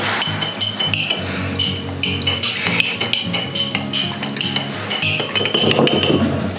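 A utensil stirs a retrobright mixture in a bowl, scraping and clinking busily against the bowl in quick irregular strokes, close and fairly loud, with no talk.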